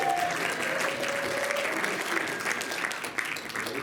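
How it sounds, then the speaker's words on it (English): An audience at a panel event gives a big round of applause, with dense, sustained clapping filling the room at an even, moderate level. "Let's give Ngaya and Watermelon a big round of applause."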